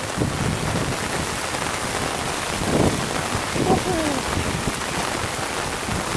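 Steady heavy rain pours down continuously outdoors near a flooding stream, a dense wash of hiss with a few faint low rumbles underneath.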